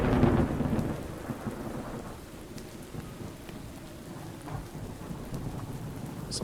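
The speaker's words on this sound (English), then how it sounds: "That sounds like quite the storm is rolling in." A thunderstorm with steady rain in Minecraft: a deep rumble of thunder rolls at the start, then fades into a continuous hiss of rainfall with faint distant crackles.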